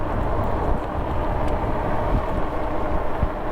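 Wind buffets a GoPro on a moving ebike, a constant rough roar of gusty noise with no talk.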